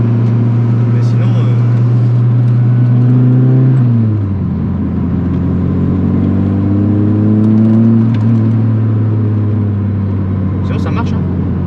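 A Volkswagen Golf 2 1800 GU with a Weber 32/34 carburetor holds a steady loud idle, then its revs rise and fall in smooth swells up close, with no talking over it.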